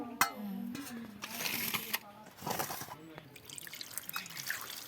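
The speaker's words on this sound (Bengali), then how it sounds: "এবার আমি জল দিয়ে ভালো করে চটচট করে ধুয়ে নেব।" Cut wild mushrooms are rubbed and sloshed by hand in a bowl of water, giving irregular splashes, drips and squelches close by, with someone talking over them.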